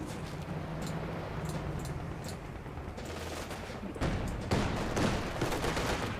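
Rapid bursts of gunfire from a T-34 tank and small arms in a Company of Heroes 2 battle, steady layered volleys with a heavier surge of shots near the end, no voices.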